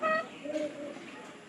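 A pet pigeon in a home loft gives a short, soft coo, close and fairly faint, with a brief low murmur following.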